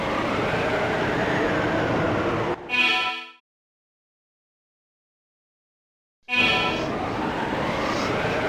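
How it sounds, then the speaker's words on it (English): A train in Sonic Adventure DX bound for Station Square gives a loud rumbling roar that cuts off abruptly into several seconds of total silence, then bursts back in just as strongly. "The train headed for Station Square will be departing soon"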